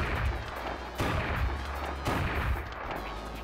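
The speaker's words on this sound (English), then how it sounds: "straight up shooting people trying to punch you" Gunfire from the PS1 beat-'em-up Fighting Force: a few loud, booming shots about a second apart over a dense, rumbling game soundscape.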